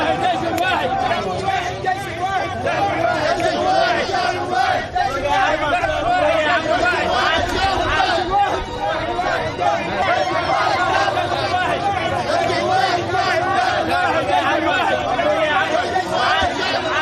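Sudanese and Eritrean citizens cheer and clamour in a street as two presidents tour on foot, a dense, continuous crowd babble of many voices that stays loud throughout.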